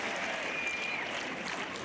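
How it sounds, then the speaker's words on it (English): Tennis crowd applauding at the 2002 US Open third-round match between Sampras and Rusedski, a steady, dense wash of clapping filling the stadium throughout with no talk over it. "this crowd is encouraging for Sampras as he comes to serve here at 2-5"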